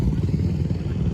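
Motorcycles rumble close by as they pull into a stance car meet, a brief dense low engine drone with no pause.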